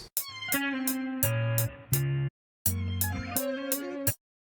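A pitched-up sample layered with guitar in a beat plays as rhythmic chopped phrases, bright stacked tones hitting in regular bursts, with a short gap of silence midway before the loop resumes.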